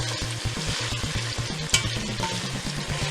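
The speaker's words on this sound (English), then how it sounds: "And now we're going to give this a sweat" Vegetables sweat and sizzle gently in a pan while a utensil scrapes and clatters rhythmically, stirring them around, with no talking.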